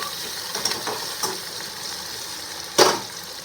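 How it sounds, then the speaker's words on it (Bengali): Chopped onion and ginger fry in a pan with a steady close sizzle, broken by a few light scrapes from stirring and one louder clatter near the end; no voices. "দেখো পেঁয়াজ কুচি দিয়ে দিয়েছি, আদা কুচি দিয়ে দিয়েছি। এটাকে লাল লাল করে ভেজে নেব।"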